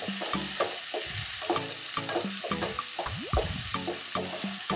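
Onions frying and being stirred in oil for pav bhaji, a steady sizzle broken by repeated close scraping strokes of a spoon against the pan.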